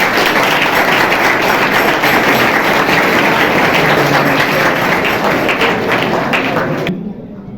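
Loud, dense applause from a large audience at a state foundation day event welcomes the chief guest, continuing evenly for about seven seconds before cutting off abruptly.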